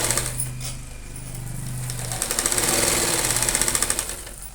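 A sewing machine stitches fabric in a steady rapid rhythm, ending in a run of distinct mechanical ticks as the needle speeds, close and fairly loud with a low hum underneath.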